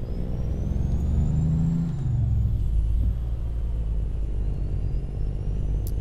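A Peterbilt 359 truck drives in American Truck Simulator, its engine a loud, steady low rumble that swells slightly early on and then holds an even drone with no talk.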